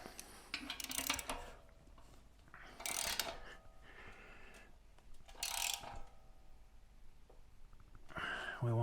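A socket wrench ratchets on a bolt on a goat-powered bike build, with bursts of clicking pawl sounds and metallic scraping, close and fairly quiet, separated by short pauses.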